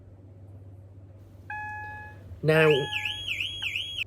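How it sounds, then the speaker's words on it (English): A car alarm sounds on a Ford Escort, first a steady beep, then a loud warbling siren that sweeps up and down, with a brief spoken word at the start. "an alarm sound, which will sound like this"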